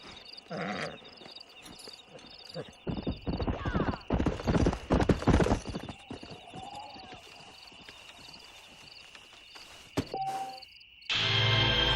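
Horse hooves clip-clopping in the video game Red Dead Redemption, a run of quick rhythmic hoofbeats with a whinny, over faint insect chirps and game ambience, ending in a burst of other game sound.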